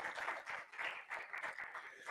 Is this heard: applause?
yes